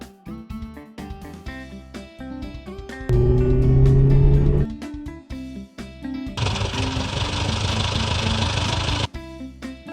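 Bus engine idling on a street, a steady low rumble in two loud stretches with a brief pause between, over light background music.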